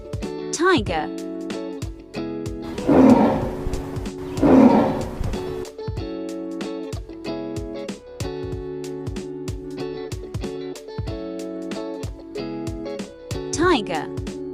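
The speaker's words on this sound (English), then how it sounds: "tiger" A tiger roars twice in close succession, two loud, rough bursts about a second apart, followed later by a brief fainter call, all over continuous background music.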